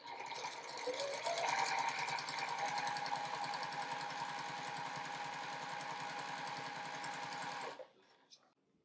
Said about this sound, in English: Now we're going to sew directly on that line.